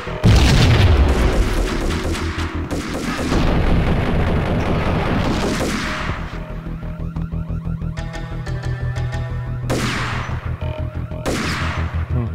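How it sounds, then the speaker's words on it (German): Heavy booming grenade explosions mixed with gunfire from the action game Max Payne. Several loud, rumbling blasts land in quick succession with sharp cracks and ringing debris between them, and no voices are heard. "Dann schmeiß ich dir gleich eine Granate hinterher"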